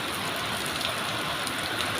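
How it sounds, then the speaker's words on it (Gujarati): Steady light rain falls in an even, continuous hiss, with no voices. "વરસાદ ચાલુ થઈ ગયો મસ્ત મજાનો ધીમી ધીમી ધીમી ધરી છે"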